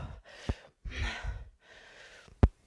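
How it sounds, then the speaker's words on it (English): Heavy breathing during a strength workout: a few deep, effortful breaths and sighs in quick succession, close up, ending in a sharp gasp. "Breathing heavy, everyone."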